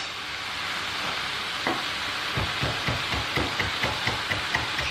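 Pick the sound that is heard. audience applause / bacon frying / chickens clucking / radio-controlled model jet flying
bacon frying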